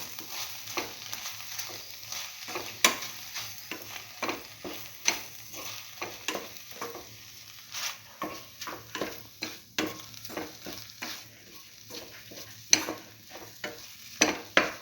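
Eggplant and bread pieces stir-fried in a pan, a steady sizzle under repeated scraping strokes of a spatula, moderately loud and close with an irregular stirring rhythm.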